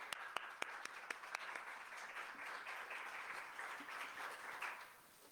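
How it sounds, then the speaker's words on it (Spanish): Audience applause at an energy reform conference in Mexico, opening with a few distinct claps that swell into steady, moderately distant clapping before fading slightly at the end. "con un fuerte aplauso"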